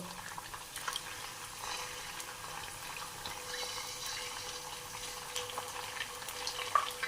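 Eggs frying in onion-flavoured oil for Chinese biryani fried rice, a steady soft sizzle with small pops throughout and no talking.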